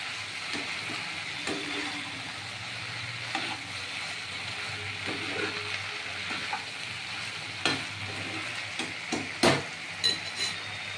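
Chilli cauliflower stirred in a frying pan, a soft steady sizzle with scraping spoon strokes and a few sharper clinks of utensil against the pan near the end.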